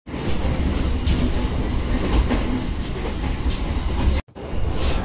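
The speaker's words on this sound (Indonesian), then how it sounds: "ini suara khas kereta api sampai goyang." A passenger train car on the Bandung–Jakarta line rattles and rumbles steadily along the rails, loud and close from inside, with clattering wheels and a sudden brief break near the end.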